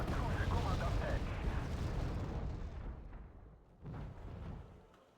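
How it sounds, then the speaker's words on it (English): Artillery shells land in a video game, making a loud, rumbling blast that rolls and fades over a few seconds, followed by a second, softer boom. "Also some good artillery coming in to stun him."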